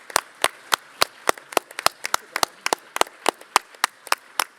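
A round of applause at a parliamentary conference session, heard as a sparse run of distinct close claps at a steady rhythm, more like a few people clapping than a full crowd.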